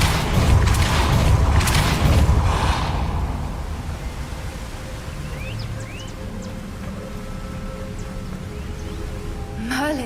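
Depulso spell cast in Hogwarts Legacy: a loud rumbling whoosh that fades over about three seconds into a quiet ambient hum with faint chirping and a soft thump near the end.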